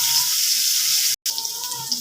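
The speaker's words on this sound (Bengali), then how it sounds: "আলুটা একটু ভেজে নিচ্ছি, আলুটাও হালকা ভাজা দেবো" Potatoes fry lightly in a pan, a steady soft sizzle with a brief cut to silence midway, no talking.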